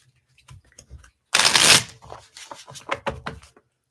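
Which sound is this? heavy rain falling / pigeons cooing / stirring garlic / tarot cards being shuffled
tarot cards being shuffled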